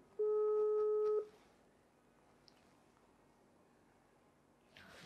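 A single steady electronic ring tone sounds for about a second, then a long quiet pause with faint room noise.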